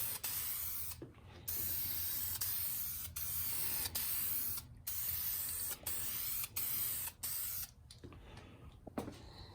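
A spray can lays a light coat of paint on used side skirts for a 1990 Mustang GT: close, loud hissing bursts about a second long, broken by brief pauses, repeating steadily.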